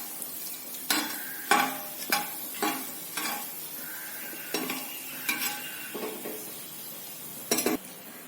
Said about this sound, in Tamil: போட்டுட்டு கொஞ்ச நேரம் எண்ணெயில ஃப்ரை பண்றோம்.